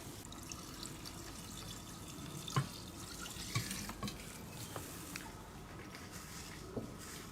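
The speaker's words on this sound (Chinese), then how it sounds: "最后把汁子全倒进去" Pickling liquid poured into a jar of radish pieces, a steady soft watery trickle with a few small clinks and splashes, close and fairly quiet, no talking.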